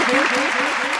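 Audience at a Hindi kavi sammelan poetry recital in Bisalpur clapping steadily, a dense, continuous wash of applause filling the whole moment with a faint voice threading underneath.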